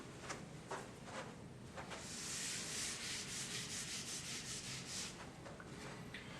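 An eraser rubs across a board during an algebra lesson, a steady close scrubbing sound lasting several seconds with no talking.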